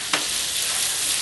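Butter melting in a pan as the start of grey shrimp croquettes, a single stir or drop at the opening and then a dense, steady sizzle that holds evenly and close throughout, with no voices.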